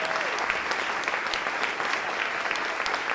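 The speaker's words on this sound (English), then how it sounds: "Just for a quick round of applause for them" A crowd at a Latin music showcase claps for a beginner samba squad, a dense, steady burst of applause that holds at an even level for a few seconds.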